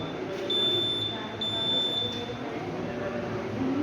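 A thin, high-pitched electronic alarm tone from a children's science exhibition model sounds in two steady stretches, fairly faint, over a low background hum.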